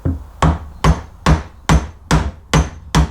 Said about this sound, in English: I'm going to try and just tap this out with the socket